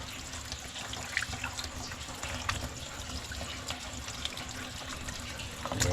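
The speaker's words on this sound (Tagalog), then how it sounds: "Hugasan natin na mabuti." Fish being washed under a running tap on an island, a steady splash of water with occasional clatters and handling noises, moderately close with no talk.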